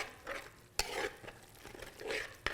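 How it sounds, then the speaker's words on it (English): Stirring in a pot while cooking collards, giving soft scraping swirls with two sharp clinks of a spoon against the pot rim, close and alone. "Stir that in the pot."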